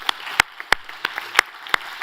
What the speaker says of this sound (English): a big thanks to you and a round of applause again for Davide.